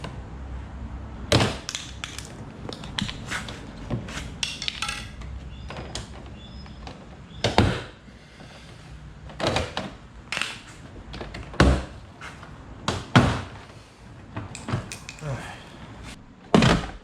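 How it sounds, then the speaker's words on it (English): Interior door panel being pried off a Ford Escape, giving a series of sharp plastic clip pops and clunks spaced irregularly, close and fairly loud, with quieter handling rustle between them. "the door panel comes off like that"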